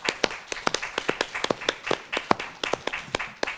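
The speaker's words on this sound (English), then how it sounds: "Let's give them a hand of applause." Sparse, distinct claps ring out close by in a seminar room, a small group applauding in an uneven rhythm for a few seconds.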